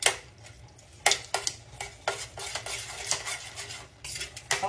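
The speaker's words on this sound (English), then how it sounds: "I'm going to slowly add my milk. And I'm going to stir as I go." A spoon scrapes and clinks around a pot on the stovetop as milk is stirred into asparagus chowder, giving close, irregular metallic taps and swishes over a faint low background, with no speech.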